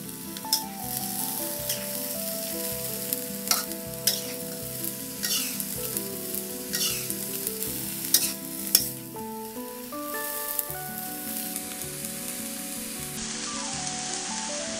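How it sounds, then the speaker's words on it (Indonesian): Chopped green, red, curly and bird's-eye chilies with tomato sizzle steadily in a frying pan, with repeated scraping and clinking of the stirring utensil against the metal throughout, without any talk. "Potongan cabai hijau, cabai merah, cabai keriting, cabai rawit, dan tomat, aduk-aduk hingga tercampur rata."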